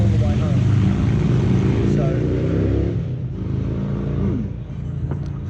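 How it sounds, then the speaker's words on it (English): Harley-Davidson motorcycles roar past near the Blue Tier trail in Derby, Tasmania, a loud, deep engine rumble that fills the moment and eases slightly toward the end, with someone talking over it. "So Harleys, why would you bother? Honestly, making all that noise."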